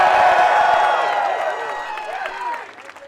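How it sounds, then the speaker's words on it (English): Crowd applause and cheering at a Philadelphia campaign rally, a broad wash of clapping that fades over a few seconds while voices murmur and call out. "Let's give them a round of applause."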